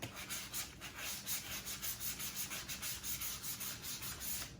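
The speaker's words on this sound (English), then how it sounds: "I want to make sure that this surface is sanded really good" Fine 320-grit sandpaper rubs steadily across the end of a PVC pipe, a close, continuous rhythmic scratching of quick back-and-forth strokes with no talk.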